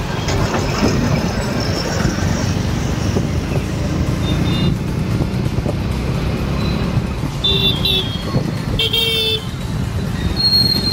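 Busy Indian road traffic heard from a Bullet motorcycle ride, with a loud engine rumble and road noise throughout and several short car horn toots in the later part, with brief voices in the background.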